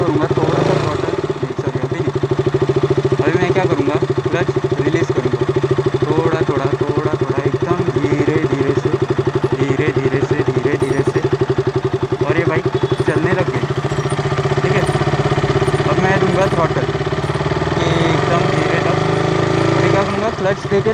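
A beginner's motorcycle engine idles with a steady, loud thrum and then pulls away, the hum holding throughout as someone talks over it.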